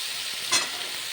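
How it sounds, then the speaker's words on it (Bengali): Ginger and panch phoron spices stir-fried with cauliflower-stalk vegetables in a pan, a steady faint sizzle with one brief louder scrape of stirring near the middle, no talk. "ভালো করে আমি কষিয়ে নিচ্ছি মশলা"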